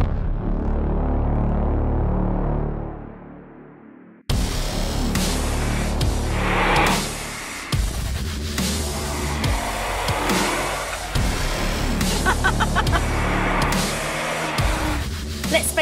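A Mercedes-AMG engine rumbles steadily with low throbbing revs and a few rising bursts, close and loud, continuing after a brief cut in the sound.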